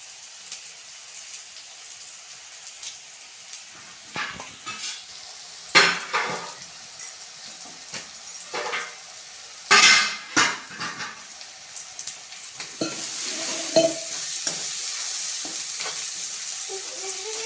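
Fresh cashew curry with goda masala and chutney is stirred and sautéed in a pan: a continuous sizzle with repeated spoon scrapes and knocks against the pan. The frying swells louder toward the end.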